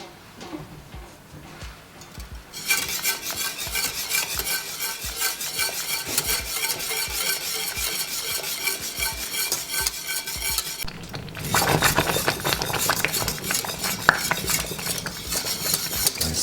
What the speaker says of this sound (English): Just keep stirring it until it's gonna get really thick.